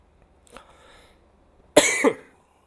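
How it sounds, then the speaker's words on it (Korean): Two sharp coughs from a scratchy throat close to the mic after a brief quieter throat noise, then silence. "지금 목이 칼칼해가지고 기침이 나네요"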